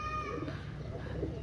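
A pair of golden pigeons coo softly at close range, a brief low cooing murmur over quiet room noise.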